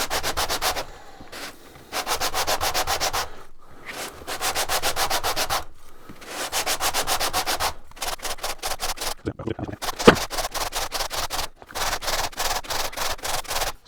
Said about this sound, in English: do a few strokes of sanding and rotate the piece a bit